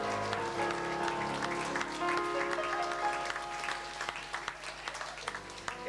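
Applause for scholarship recipients at an evening ceremony, a crowd's clapping heard quietly and a bit distant, mixed with soft backing music from a live musician, tapering off toward the end.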